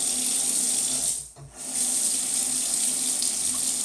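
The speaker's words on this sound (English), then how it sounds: "I can tell it's hard to rinse off the razor" Tap water runs steadily into a sink while a shaving razor is rinsed under it, a continuous close hiss that briefly cuts out midway before resuming.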